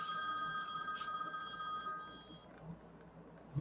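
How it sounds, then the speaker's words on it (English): A phone rings with a bright, steady electronic tone that holds for about two seconds, then cuts off, leaving faint room noise and a soft knock near the end. "That was my phone ringing."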